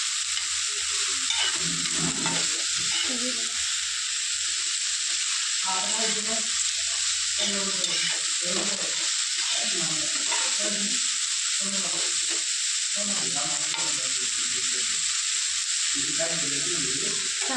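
Food frying and being stirred in a pan, with a steady broadband sizzle running throughout and a person talking continuously over it.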